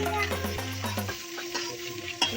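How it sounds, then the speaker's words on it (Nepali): Sukuti, dried meat, fries and is stirred in a pan, a close crackling sizzle broken by a few utensil scrapes, with no one speaking. "अलिक फ्राई भयो है, फ्राई हुँदैछ यसरी है।"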